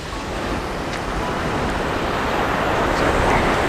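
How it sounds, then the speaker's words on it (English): Ocean water washes over rocks along the shore, a continuous broadband rush of surf under steady wind noise on the microphone, with no voices. "I'm filming a bunch of rocks with water."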